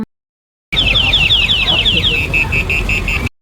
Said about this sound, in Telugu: ఆ సౌండ్ విన్నారు కదా ఆ జాతరలో మొత్తం ఈ కార్లే ఎక్కువ వచ్చినాయి